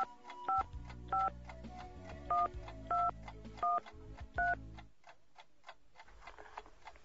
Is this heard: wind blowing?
no